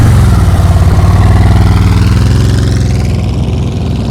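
A motorcycle engine idles loud and close with a steady low throb during a slow-speed turn at a riding practice session in Florida, easing slightly toward the end.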